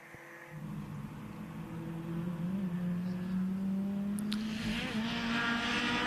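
A silver 350 race car runs at a Mid-Ohio time attack event, its engine drone rising steadily as it closes in, growing louder and higher-pitched with a sharp upshift blip near the end.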